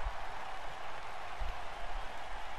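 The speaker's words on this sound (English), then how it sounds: "Rowdy Roddy Piper, is back, and this crowd is going nuts." A crowd in the WWE 2K19 wrestling video game cheers and applauds in a dense, even wash of noise, steady and moderately loud without clear voices.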